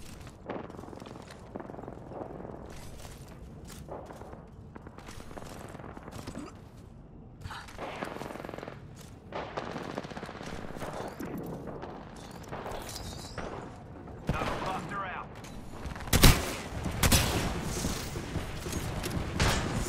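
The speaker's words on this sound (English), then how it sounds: "Knuckle cluster's firing!" Knuckle Cluster ability in Apex Legends firing amid continuous gameplay noise, with scattered bursts and crackling explosions building to a louder blast cluster near the end.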